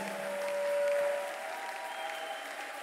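A church congregation claps and cheers in praise of God, a sustained wash of applause from many hands that swells and then slowly tapers, somewhat distant and alone.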